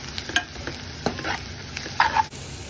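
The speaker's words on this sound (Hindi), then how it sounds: "प्याज हमारा भून चुका है बढ़िया तरीके से" Onions with a little turmeric and chili fry in a pan for poha, giving a steady sizzle broken by repeated scraping stirs and light clicks of the spoon. Close and moderately loud, with no voice.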